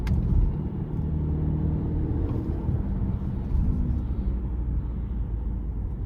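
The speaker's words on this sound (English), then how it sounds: "Really, really good turbo pull" A 2023 Subaru Ascent Limited with its 2.4-litre turbocharged four-cylinder accelerating, a steady low engine rumble and drone heard from inside the cabin, holding at an even level throughout.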